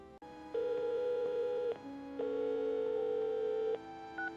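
Phone call ringing unanswered: a steady electronic ringback tone in long pulses with short gaps, fairly loud and close, with no voice over it.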